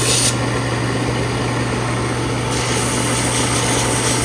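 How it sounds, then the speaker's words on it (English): A power sander runs steadily on knife handles with a constant high whirring hum and gritty noise, unbroken throughout with no voices. "Got the handles ground, and now he's sanding them, and now getting ready to polish."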